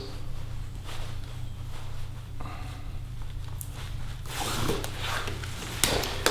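A length of about eight inches of electrical tape is pulled off the roll for wrapping a fiber cable end, with brief sticky rips over a low steady hum.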